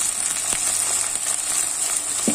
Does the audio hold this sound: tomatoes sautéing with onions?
yes